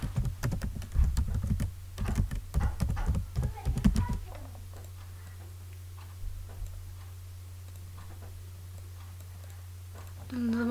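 Rapid clattering keystrokes on a computer keyboard during spreadsheet work fill the first four seconds, followed by a quieter stretch with a low steady hum and a few scattered clicks.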